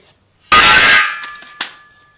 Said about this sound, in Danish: Hammeren. Menneskets bedste ven.